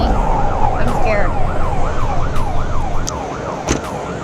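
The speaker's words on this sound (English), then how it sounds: "Uh-oh, I hear the police coming for me." Police siren wailing in a steady rising and falling cycle over road and traffic noise, loud and close throughout.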